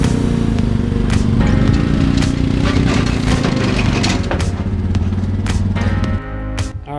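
Engine of a quad ATV being driven up onto a truck-mounted rack, a loud, steady mechanical rumble with clunks and creaks throughout, easing off near the end.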